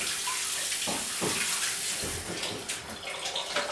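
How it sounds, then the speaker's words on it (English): Hands being washed under a running kitchen tap, a steady fairly quiet stream of water broken by splashes and rubbing as the hands move beneath it. "Now, I've got to wash my hands."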